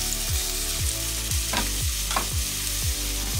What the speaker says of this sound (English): we're going to lower the flame a little, and we're just going to saute them for 7 minutes